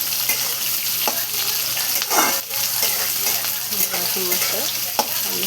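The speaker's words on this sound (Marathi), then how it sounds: "मिक्स करून घेऊ आपण कांदा आणि टमाटर." Sliced onion and tomato frying and being stirred in a pan, a steady loud sizzle broken by occasional scraping and stirring strokes, close up, with no voices.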